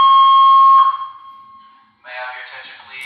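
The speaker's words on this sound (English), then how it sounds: "So we just had a fire alarm here" A fire alarm blares with a steady piercing electronic tone, loud at first and then fading, followed by a burst of harsher, noisier alarm sound.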